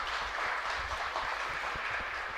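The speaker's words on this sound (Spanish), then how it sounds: "Y fuerte aplauso para el Señor entonces." A church congregation applauds during a Catholic Mass, steady dense clapping filling the whole stretch at moderate level with no break.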